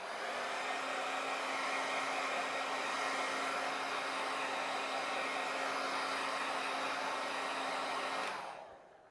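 A hair dryer blows steadily on leather to dry it, a loud continuous whoosh with a low motor hum that runs evenly for about eight seconds before switching off.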